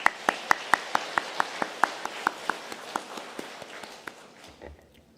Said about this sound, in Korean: 우리 주영광 찬양대 또한 관현역단에게 큰 격려의 박수 부탁드립니다.